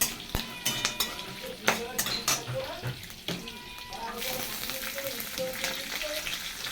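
Whole garam masala, cumin seeds, black pepper, chilli and bay leaf sizzle and crackle loudly in hot oil, with steady frying hiss, a few sharp pops and stirring scrapes, and a voice speaking over it.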